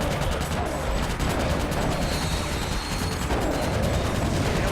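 Dense continuous gunfire in Ratchet & Clank: Deadlocked during a gladiator tournament, loud rapid shots and blasts layered without a break for several seconds.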